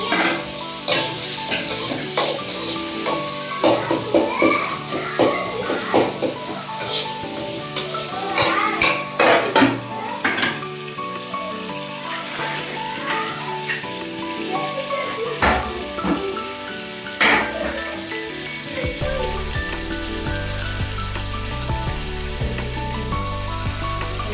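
Chopped tomatoes sizzle and fry in a pressure cooker while Maggi noodles are being prepared, with steady broadband frying hiss, scattered utensil scrapes and clinks, and children's voices and chatter audible in the background throughout.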